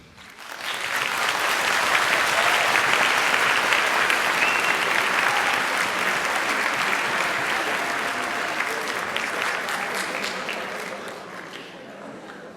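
Audience at a university social sciences graduation ceremony breaks into sustained applause, loud and dense, holding steady for several seconds before slowly thinning out toward the end.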